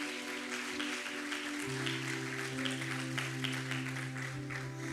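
A church congregation applauds in a soft, continuous patter of clapping, heard somewhat distant beneath sustained organ or keyboard tones.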